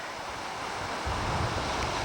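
Ocean waves wash onto a Hawaiian beach in a continuous surf roar, with a fuller surge of breaking water about halfway through and wind buffeting the microphone; nobody speaks.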